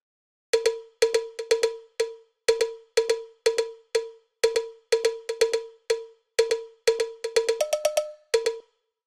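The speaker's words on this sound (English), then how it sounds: "Then I've got this cowbell, which is from a longer loop" A dry, bright cowbell loop in an Afro house track plays a repeating syncopated rhythm, ending each bar with a quick run of doubled hits and a brief pitch change near the end.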